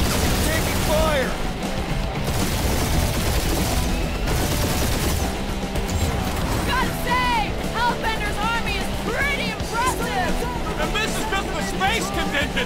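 Sustained gunfire and explosions in the Guardians of the Galaxy video game, loud and continuous, with characters shouting over the battle throughout.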